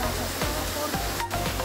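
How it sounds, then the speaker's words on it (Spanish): A waterfall on a hiking trail near Floridablanca gives off a steady, broad rushing hiss of spraying water that fills the whole clip. "¡Qué espectáculo de cascadas!"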